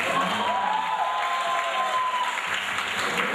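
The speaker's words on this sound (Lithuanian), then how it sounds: "Publika kaip ploja, reiškia, atsakymai sutampa." A wedding audience applauds with dense, steady clapping that fills the whole moment, with a few faint crowd voices mixed in.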